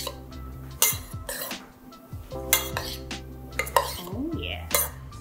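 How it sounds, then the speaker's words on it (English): Green goddess dressing made with edamame being stirred into a chicken Buddha bowl, with a utensil repeatedly clinking and scraping against the dish in irregular bursts, close and clear. "So we'll take a little bit of that edamame green goddess and we will mix it up."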